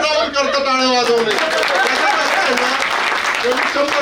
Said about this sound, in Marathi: सगळ्यांना राहुल करता टाळ्या वाजवणे.